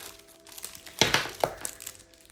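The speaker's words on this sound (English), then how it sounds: "Sorry for all the crinkling." Plastic packaging being handled: a few close, sharp crinkles and crackles in quick irregular bursts over a quiet background, with no speech.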